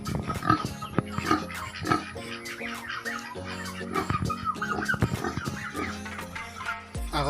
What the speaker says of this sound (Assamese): আৰু এইফালে গাহৰি এটা আছে।